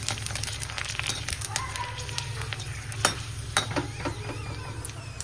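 Golgappa puris sizzle and crackle in hot oil, a steady frying hiss with scattered pops and stirring clinks up close; a low hum runs underneath.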